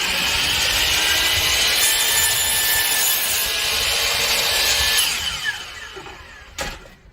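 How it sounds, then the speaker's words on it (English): A DeWalt power saw cuts through a piece of wood, a loud, steady, high-pitched buzzing rasp for about five seconds that then tapers off as the blade finishes and winds down. "if you need to go ahead and cut a piece of wood,"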